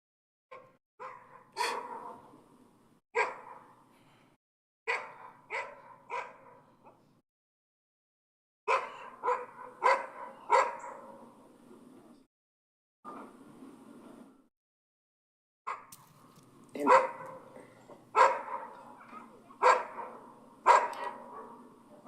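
Neighbours' dogs bark repeatedly in bursts of several loud barks separated by short pauses, a recording played back and heard indoors, with no voices.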